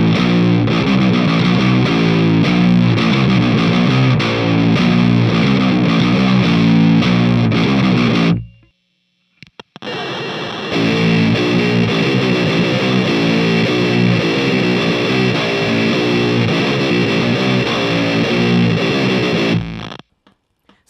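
Electric guitar on a high-gain channel runs through a Hotone Krush bitcrusher pedal, chugging out loud, gritty, digitally crushed riffs that stop abruptly, leave a short silence, then start again.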